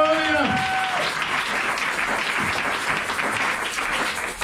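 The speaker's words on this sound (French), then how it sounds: "Acclamez très très fort Jésus" A church congregation applauds and cheers for Jesus in a long, dense burst of clapping. A voice calls out over the first moment, and the applause then carries on steadily, loud and full.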